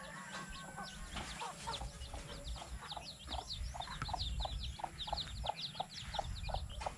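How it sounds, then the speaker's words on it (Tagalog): Rapid, high chirpy peeps from baby chickens repeat steadily over a low, rumbling background, growing busier and louder toward the end. "Ito, yung baby chicken."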